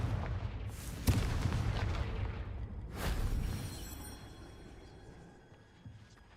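Two booming magical explosions from the Confringo blasting spell in the video game Hogwarts Legacy, each a sharp, loud burst trailing off into a rumbling decay, the second fading slowly into quiet.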